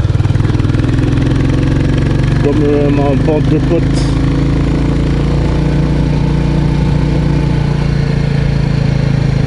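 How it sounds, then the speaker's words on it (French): A Royal Enfield 350 Bullet motorcycle engine drones steadily at a low, even pitch while riding on small country roads, loud and continuous beneath someone talking over it. "c'est agréable de faire de la moto sur les petites routes comme ça"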